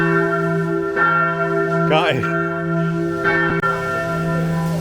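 Church bells ring from a medieval Tuscan hilltop village near a monument to St. Barbara, a steady sustained peal with overlapping tones, while someone speaks briefly over it.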